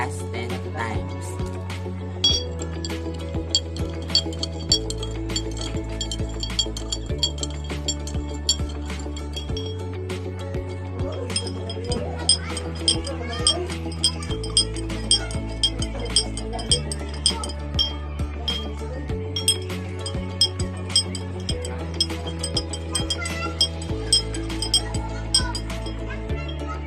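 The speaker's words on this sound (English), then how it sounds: "Stir each glass 10 times." Spoons stirring brown sugar into glasses of water in a chemistry lab, giving repeated light glass clinks in quick rhythmic bursts over steady low background music.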